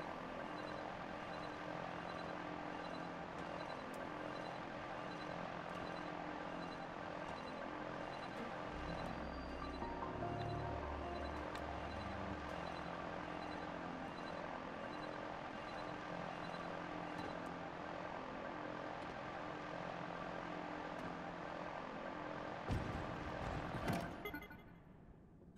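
Link's aircraft flies in the video game Zelda: Tears of the Kingdom with a steady, faint whirring drone and a brief low rumble partway through, then ends in a short clattering burst.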